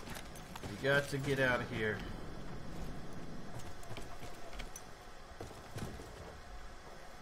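In the video game Battlefield 1, horse hooves clip-clop as scattered, irregular thuds under low background noise. Someone speaks briefly near the start.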